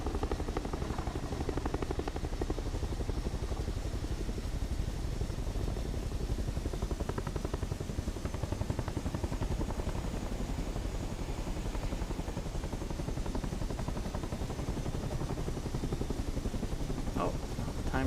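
Helicopter flying in Microsoft Flight Simulator 2024, a constant, loud rotor and turbine roar with rapid blade chop beneath, steady and unbroken from start to finish.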